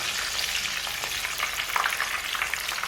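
Oil sizzles and crackles steadily as potato croquettes fry, a constant close hiss with small pops and no talking.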